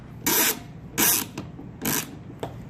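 A Surefire SF Ryder suppressor is twisted clockwise onto an MP5 mount, heard as four short, close rasping bursts of metal grinding against metal with brief pauses between them and no voices.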